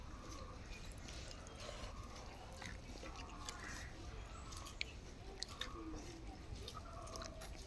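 Someone eating panta bhat, soaked leftover rice with mustard oil and salt, alongside a fried egg; soft, wet chewing and smacking sounds repeat close up over steady low background noise, with faint voices in the distance.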